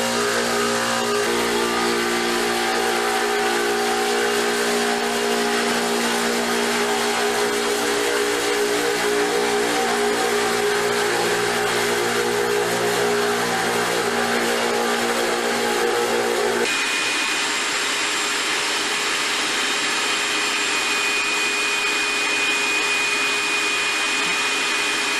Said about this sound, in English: I rented a floor sander and I was really surprised how well and easy it worked